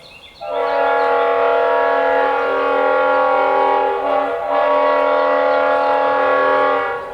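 A westbound Kansas City Southern train sounds a long, steady, chord-like horn blast that holds loud for several seconds with a brief dip midway, close and dominating.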